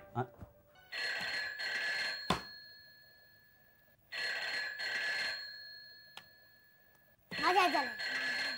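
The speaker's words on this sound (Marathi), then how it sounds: "फोन वाजला रे वाजला की" A telephone bell rings in three separate bursts with pauses between, clear and fairly close, while people talk in the background, in a scene from a Marathi TV serial.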